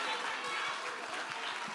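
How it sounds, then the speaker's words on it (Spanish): Applause from an audience at an outdoor talk with a musician in Tepito, Mexico City, a dense, even patter of clapping throughout, fairly faint, with a voice mixed in. "Un aplauso."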